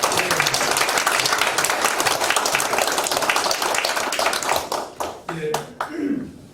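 Loud applause from a crowd at a church mission forum fills the space, steady clapping that tapers into scattered claps and a few voices near the end.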